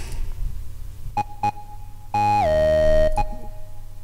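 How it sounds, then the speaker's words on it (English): A synthesizer plays a triangle-wave tone with reverb and a short delay: two brief plucked notes, then a longer sustained note that slides down in pitch and rings out, followed by another short note, clean and alone. "got reverb and a short delay"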